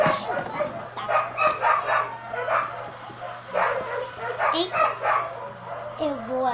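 A dog barks and yips repeatedly in the background of a room while a person talks over it, the barks coming in uneven bursts at moderate distance.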